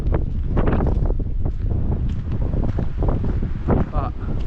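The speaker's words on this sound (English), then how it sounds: "It's getting a bit windy now" Gusty wind buffeting a microphone outdoors in open countryside of fields and rivers, a steady low roar with rumbling surges throughout, under no clear speech.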